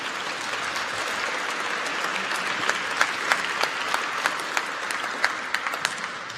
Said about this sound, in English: can we please start by giving yourselves a big round of applause for being here?